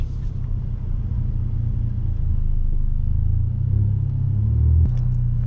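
A 2018 Ford Focus ST on the move, its engine a steady low rumble with road noise that swells slightly midway, heard from inside the cabin with no talking.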